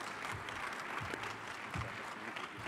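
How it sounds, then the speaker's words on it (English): Faint, steady applause from an audience after a plenary speech at an agriculture conference session, a soft even patter of clapping that lasts the whole short stretch. "give him a round of applause, please"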